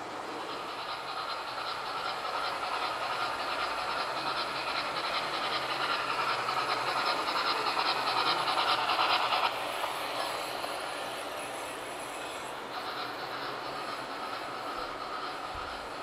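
Model railway trains running on a bean-shaped layout with overhead catenary for electric locomotives, a steady rolling rumble and hiss of wheels on track that swells and then eases slightly, continuous, with no talk.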